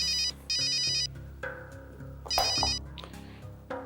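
A telephone ringtone chirps in bursts, with loud electronic trills alternating with quieter tonal passages, clear and close.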